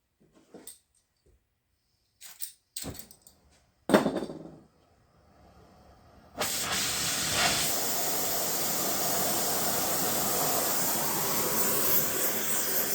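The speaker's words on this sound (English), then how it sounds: "Let's get the torch fired up." A welding torch is lit to preheat a cracked crank pulley on a Case D tractor. A few clicks and a short pop come first, then a steady, loud, continuous hissing roar of the flame.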